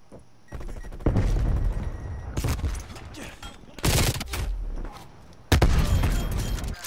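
An MG 82 machine gun in the video game Black Ops Cold War fires several sustained bursts of rapid gunfire, with brief gaps between them and a voice talking underneath.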